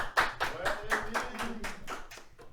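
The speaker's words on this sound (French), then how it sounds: "On peut l'applaudir. Applaudissez-le là." About ten distinct, evenly spaced hand claps ring out at a student association event, a small group applauding Rémi with a moderate, slightly uneven rhythm and faint voices underneath.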